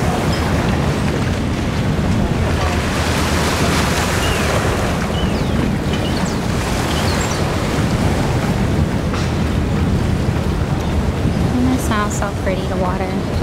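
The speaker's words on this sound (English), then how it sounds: "water, just hitting the rocks." Ocean waves wash and crash against rocks at a summer shoreline, a loud continuous roar of surf mixed with wind buffeting the microphone, with brief bird-like chirps near the end.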